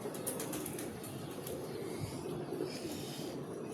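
A breeder female pigeon is handled close by, with soft wing flutters and rustling, a faint coo, and light shuffling at a low level.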